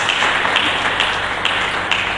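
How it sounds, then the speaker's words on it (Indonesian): Steady, dense applause from a church congregation during a Sunday sermon, continuous and fairly loud for the full stretch with no voice over it. "Mari kita berikan tepuk tangan yang meriah bagi Tuhan Yesus Kristus."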